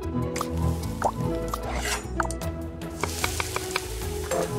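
Water pouring into a cooking pot in a kitchen scene of a housewife video game, a wet dripping, splashing trickle with small plops, set among steady game background music.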